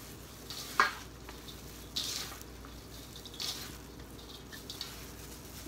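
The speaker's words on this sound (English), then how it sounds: "Mix everything together." Crispy rice salad, Lao nam khao, is tossed by hand in a bowl, giving soft rustling and crackling with a few brief louder scrapes over a steady low background.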